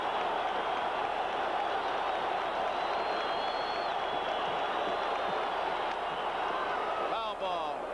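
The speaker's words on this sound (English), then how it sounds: "Listen to the crowd." A baseball stadium crowd at a classic MLB game roars and cheers in a sustained, distant wash of noise, with a few whistles rising above it near the end.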